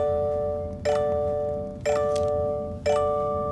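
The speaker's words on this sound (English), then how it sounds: "their seatbelt chime alarm just never stops going off no matter what speed you're going" A bright electronic seatbelt chime in a 2024 Subaru Solterra sounds three times at steady one-second intervals, each ringing and sustaining until the next, over a low background hum.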